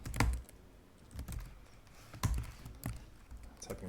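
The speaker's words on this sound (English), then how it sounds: "Typing the word prompt a lot today." Typing on a computer keyboard while coding, with irregular clusters of close key clacks and a few sharper, heavier strikes over a faint background hum.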